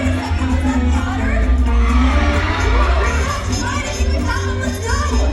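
At Sea World in San Diego, a crowd of children screams, shouts and cheers continuously at close range. The noise is loud and dense, and excited voices overlap throughout.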